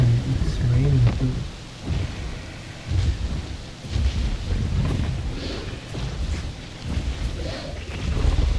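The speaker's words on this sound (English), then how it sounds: "And it's raining too." Rain and rolling thunder in the dinosaur park game Jurassic World Evolution, a steady wash of rainfall with low rumbling swells recurring throughout, mixed with music and game ambience.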